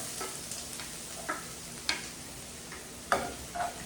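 Ginger and garlic sizzle in a hot frying pan, a soft steady crackle with a few sharper ticks of stirring, close and moderately quiet, no voices.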